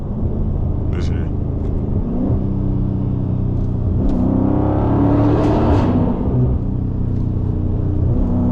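Widebody Dodge Scat Pack with its mid muffler deleted, exhaust rumbling and swelling under acceleration with crackles on top, heard from inside the car while people talk.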